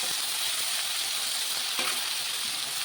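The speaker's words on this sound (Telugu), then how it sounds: "టమాటా కూడా బాగా ఫ్రై అయ్యేంత వరకు ఫ్రై చేస్తుంది" Tomatoes and onions fry together in a pan with an even, dense sizzle, close by, and a single light clink partway through; no one speaks.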